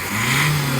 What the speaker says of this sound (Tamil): வண்டி ஸ்டார்ட் ஆயிடுச்சு.